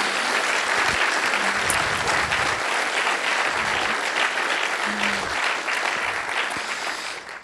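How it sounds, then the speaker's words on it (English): Sustained applause from a conference audience at the closing session, a dense steady wash of many hands clapping that carries on for several seconds and eases off slightly at the end. "give them a special round of applause because it's a really hard job"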